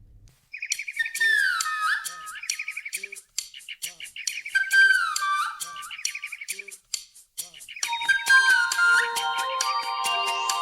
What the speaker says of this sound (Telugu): కిచుకిచుమంటూ శబ్దాలు చేసే పిచ్చుకలు